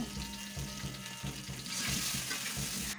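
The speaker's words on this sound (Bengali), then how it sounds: "আমি প্রথমে আলুগুলোকে লবণ হলুদ দিয়ে ভালো করে ভাজি করে নেব" Potatoes frying with salt and turmeric in a wok, a loud steady sizzle with rhythmic low thuds of stirring or tossing repeating about every half second, no speech.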